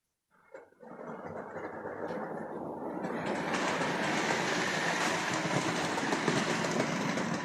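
A Hornby M7 model locomotive starts and runs along the track with a steady mechanical whir and rattling wheels. The sound is close and grows louder as it gets under way, with no talking.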